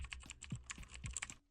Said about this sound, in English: Don't know why I included the bit with the fucking typing to look up my own hours